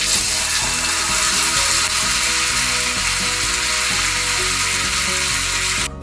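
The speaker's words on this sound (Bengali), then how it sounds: "এবার আমি একটা একটা করে কর্নগুলোকে অ্যাড করে দেবো" Baby corn fries in hot white oil in a kadai, a loud, dense sizzle and bubbling close up with a rhythmic rattling texture, ending abruptly, no talk.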